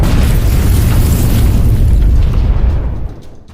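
Artillery shells striking immobilized tanks in a minefield during a war assault, a loud, close booming blast with a rolling roar that fades out over a few seconds.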